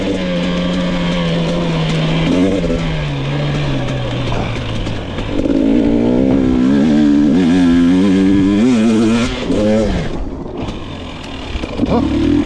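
A 2022 Gas Gas EX 250 dirt bike revs hard on an off-road ride on a dairy farm, its two-stroke engine climbing and falling in pitch with throttle bursts, loud and close throughout.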